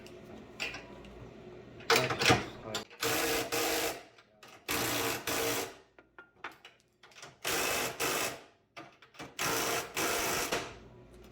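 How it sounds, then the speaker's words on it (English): A hand ratchet being worked during a plow repair, bursts of rapid mechanical clicking in repeated strokes separated by short pauses, close and fairly loud. "Give it a couple of good ratchets."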